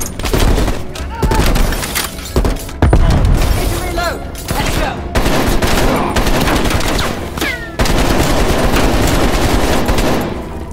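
Gunfire in the video game Call of Duty Black Ops Cold War: loud, dense bursts of automatic weapon fire and booming shots crackle continuously through a chaotic combat scene, with shouted voices mixed into the battle.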